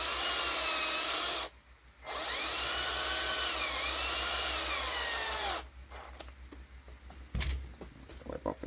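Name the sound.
screw being driven into plastic part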